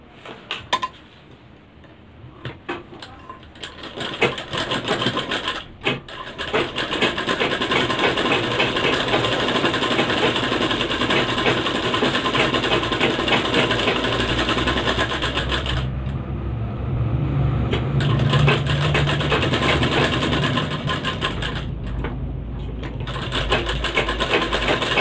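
Sewing machine stitching a cord made from bicycle spokes, running in a steady loud mechanical whir with a few brief pauses and restarts, alone without talk.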